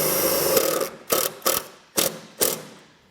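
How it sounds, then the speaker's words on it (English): A self-tapping screw is driven into vehicle sheet metal on a 2022 Toyota in four or five short, sharp mechanical bursts separated by brief pauses, close and clear with no talk. "I'm just going to take a self-tapping screw and secure it that way"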